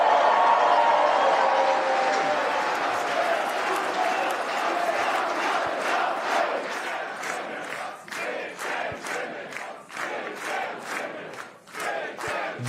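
A packed crowd at an election-night campaign headquarters roars and cheers loudly, then falls into rhythmic unison chanting with claps that pulse steadily toward the end.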